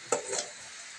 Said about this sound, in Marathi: अशा प्रकारे आपण पूर्ण व्यवस्थित भाजून घेऊया।